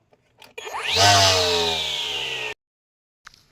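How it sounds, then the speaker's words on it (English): Ego 56-volt string trimmer fitted with a saw blade spins up with a rising whine and runs loud and steady for about two seconds before cutting off abruptly, a brief faint knock following. "I have 56 volt Ego trimmer here and a saw blade on the end"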